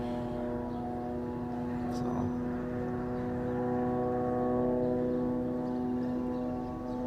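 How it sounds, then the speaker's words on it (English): An aircraft engine drones steadily overhead in a live war-zone feed from the Israel–Hamas conflict, a sustained tonal hum that swells slightly toward the middle and eases off, with faint background noise. "sounded like a jet was incoming there"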